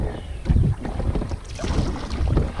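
Solo canoe paddling on a lake in Algonquin Park, Ontario, with steady low water swishes and strokes from the paddle alongside the boat, backed by continuous wind buffeting against the microphone.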